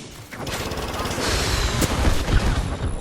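Dense, continuous bursts of rapid gunfire in the video game Apex Legends crackle loudly for the whole stretch, like a sustained firefight.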